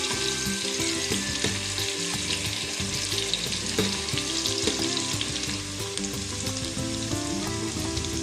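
Finely chopped onion frying in oil in a pot for a Malvani crab curry, a loud, dense, continuous sizzle with faint stirring, heard alone under steady background music.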